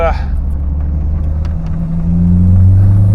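A Toyota MR2 engine revs through a downshift, its steady close drone and rumble climbing in pitch and swelling louder toward the end.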